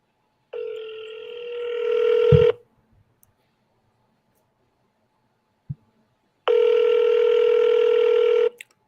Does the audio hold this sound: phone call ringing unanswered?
yes